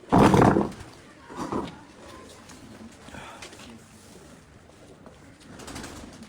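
Fancy (farangi) breed pigeons coo in low murmuring phrases, with a louder burst at the start and another shortly after, then quieter cooing continuing underneath.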